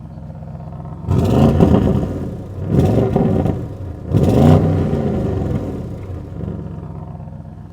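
A 2025 Audi RS 6 Avant in sport mode revs three times in quick succession, each rise a loud, close engine swell followed by a falling exhaust burble, with a lower idle rumble between and after the bursts.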